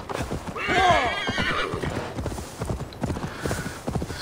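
In the video game Assassin's Creed Valhalla, horse hooves clip-clop steadily while a horse whinnies with a rising, shaky call early on; the trotting continues alone afterward.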